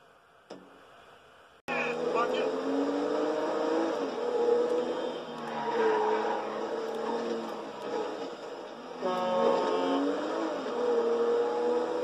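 A video-game car in GTA 5 starts up and drives with a steady engine drone, its pitch rising and falling as it revs and shifts, loud and continuous for most of the clip.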